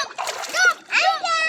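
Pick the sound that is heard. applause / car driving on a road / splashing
splashing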